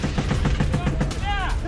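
Rapid gunfire crackles in a quick automatic burst during a Ukrainian special operations attack on Russian front-line positions. The shots are loud and closely spaced, and a brief whistling tone follows.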